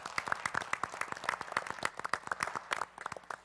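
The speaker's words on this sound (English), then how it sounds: "So I'd like to give her a nice round of applause as well." Audience at a school board meeting applauding, a moderate round of individual claps from a modest crowd, fairly distinct hand strikes at an uneven rhythm, no talking over it.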